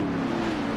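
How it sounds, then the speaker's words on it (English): Stock cars roaring past in a NASCAR-style racing video game, a steady engine drone holding a low tone, loud and continuous through the short moment with no talk. "they all do sound so good driving past"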